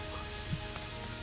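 Steady rain in the game Gothic 3, a soft continuous patter on a surface overhead with a faint brief knock partway through, no voices.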